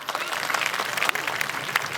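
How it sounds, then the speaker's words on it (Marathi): An audience of women at a comedy games event claps with both hands raised, producing dense, continuous applause that fills the space at moderate loudness, with no talk over it. "एकदा दोन्ही हात उलगून टाळ्या वाजवा"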